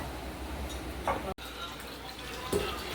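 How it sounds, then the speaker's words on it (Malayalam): A pot of water at a rolling boil gives off a steady, soft bubbling hiss, with a couple of brief bumps and a momentary dropout partway through. "ഈ കലത്തിലെ വെള്ളം തിളച്ചു"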